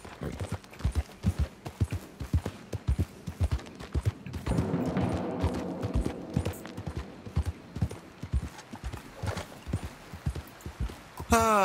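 A horse clip-clops in the Red Dead Redemption 2 video game, its hooves beating a steady, close rhythm. A burst of gunfire cuts in midway, and a voice talks over the riding.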